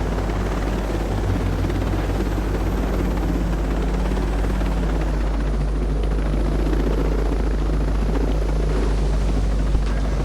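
Helicopter rotor and turbine roar from Ghost Recon Breakpoint, a loud steady drone with low thumping as the aircraft comes down to land, continuous and alone throughout.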